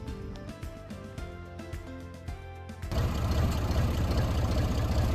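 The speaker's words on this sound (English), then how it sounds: "I think you can back that tractor up pretty easily." A tractor engine runs steadily at a timber-frame building site, its rough mid-pitched drone continuing with faint clunks, then growing louder and denser partway through as it works while backing up.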